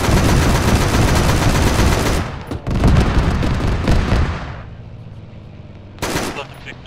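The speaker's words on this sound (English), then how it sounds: "The vehicle's shooting it now." Heavy vehicle-mounted gunfire in the Arma military sim, ShackTac session: loud, dense automatic bursts roaring continuously for about two seconds, then resuming after a short break and fading off, with a final sharp burst near the end.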